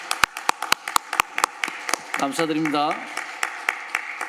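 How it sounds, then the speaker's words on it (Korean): At a church prayer meeting for Korean unification, the congregation claps in a sharp, evenly spaced rhythm, crisp and close. A speaking voice briefly rises over the beat partway through. "함께 우리 박수 한번 해요."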